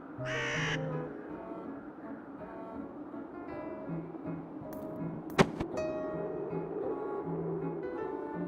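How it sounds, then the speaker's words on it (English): Crows in The Whispered World caw harshly as they are scared off, loud calls near the start and scattered later, with a sharp wooden knock in the middle and a low ambient drone throughout. "You scared away the birds."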